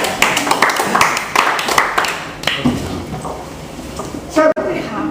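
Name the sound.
audience applause for the girls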